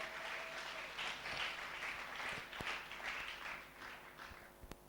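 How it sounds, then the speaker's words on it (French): A crowd at a large religious gathering bursts into sustained applause acclaiming the king, steady dense clapping for about five seconds with a few sharper claps near the end. "On acclame le roi."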